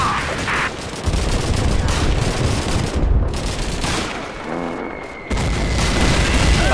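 Gunfire and explosions in the video game Call of Duty 2 on a British campaign: dense bursts of rifle and machine-gun fire with heavy booms, loud and continuous with brief lulls.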